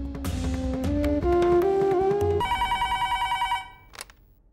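A phone rings with a rapid electronic trill, tones stepping up in pitch, then stops; a short click follows.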